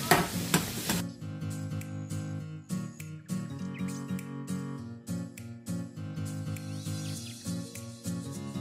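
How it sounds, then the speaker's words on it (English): Vegetables fry in hot oil with tomato, a steady sizzle broken by repeated clattering stirs and scrapes of a utensil in the pan, preceded by a short burst of louder noise. "Tomato is ready, and now I can put in my veggies."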